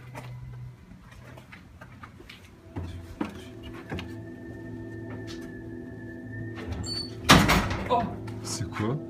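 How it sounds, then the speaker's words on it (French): A door opening in a French horror film, with scattered knocks and clunks, a sustained creak-like tone and a sharp bang near the end, under murmured talk. "C'est la porte."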